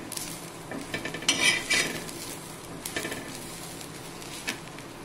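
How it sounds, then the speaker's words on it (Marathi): Masala of red chili powder and Kashmiri chili being roasted and stirred with onion in a pan, heard as a soft sizzle with scraping spoon strokes and a few metallic clinks against the pan. "भाजी रस्सा तयार करण्यासाठी हा मसाला भाजून घेतला आहे"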